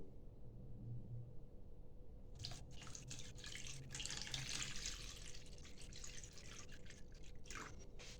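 Water is poured over paraffin and wax fire-starter material, starting quietly and then splashing and trickling for several seconds at close range; no talk.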